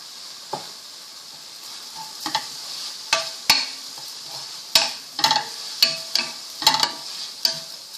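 Vegetarian pad kaprao with long beans and holy basil stir-fried in a pan, a steady sizzling hiss broken by repeated sharp clacks and scrapes of a spatula, close and loud with no talking.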